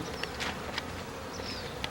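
A swarm of honeybees that has started building comb, a steady close buzzing drone with individual bees whining past, no voices.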